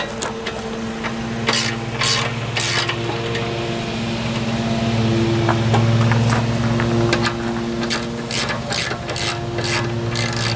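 Hand ratchet tightens the idler pulley bolt on a mower, a loud close series of quick pawl clicks in bursts over a steady mechanical hum, with no talking.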